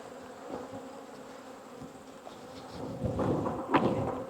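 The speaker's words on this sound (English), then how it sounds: "This hive likes to chase me down as well." Honey bees buzz around an open beehive, a close, continuous droning hum that swells louder toward the end as more bees fly near, with a few soft knocks and shuffles in the background.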